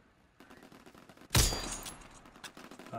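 Gunfire in Call of Duty WWII: a sharp, loud shot cracks out after a stretch of quieter clatter, followed by a few fainter scattered pops as the echo decays, with no voices.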